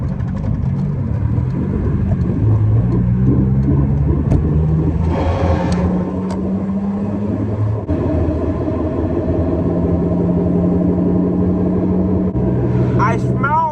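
A front-wheel-drive ES1 Honda Civic accelerates hard toward a tire-smoking launch, its engine roaring loud and close with a rising, steady drone throughout.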